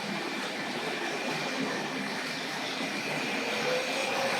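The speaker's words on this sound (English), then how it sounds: "And then we'll get the cement train underway. Quite a lot of friction in those tight curves." A Tri-ang R.55 single-ended model diesel hauls cement wagons around tight track curves, producing a continuous, even whirring rumble with no voices.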